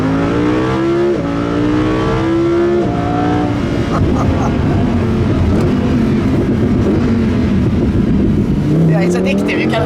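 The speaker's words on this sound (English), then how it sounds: "Here you have this high revving like a superbike engine." A Lamborghini Huracán LP610-4 V10 engine revs hard and close, its pitch climbing through several gears with short drops at each shift, loud and continuous on a drive in Stockholm.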